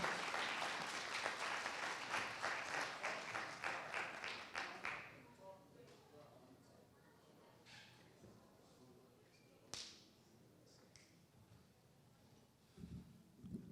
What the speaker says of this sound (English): Let's clap, 216 Tate.